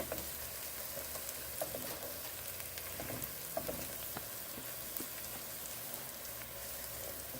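Garlic and ginger fry in oil over medium heat for a Bangladeshi chicken curry, giving a steady, close sizzle with small crackling pops throughout and no talking.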